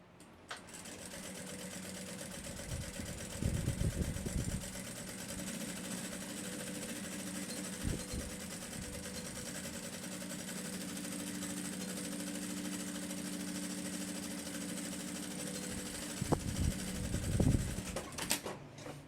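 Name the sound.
sewing machine stitching the backpack lining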